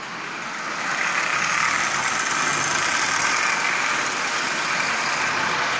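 A Marx single reduction toy train motor runs at half power, giving a steady, fairly loud whirring hum with a dense buzz that ramps up in the first second and then holds even.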